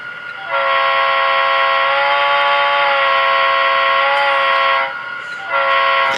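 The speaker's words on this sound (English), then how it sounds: "this is actually a playable horn, so you can. This one actually changes the pitch when you play it." An HO scale Athearn Genesis FP45 model locomotive with DCC sound plays a loud, sustained multi-tone horn. The pitch shifts while it sounds, then the horn drops out briefly and resumes near the end.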